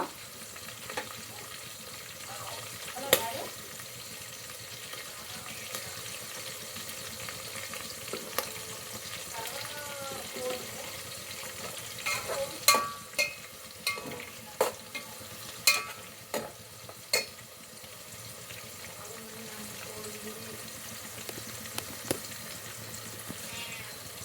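Onions or spices roasting in plenty of oil for biryani, a long steady sizzle with repeated spatula clinks and scrapes, plus occasional faint voices in the background.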